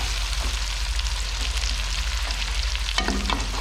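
Chicken karahi fries in a pan with a steady, loud sizzle and crackle that runs throughout, joined by a scrape of stirring near the end.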